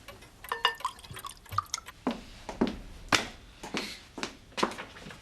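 Liquid pours and drips in an irregular series of splashes and trickles, close and moderately soft, with no talking.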